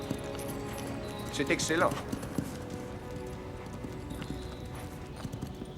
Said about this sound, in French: Ce cheval était fait pour vous, Majesté.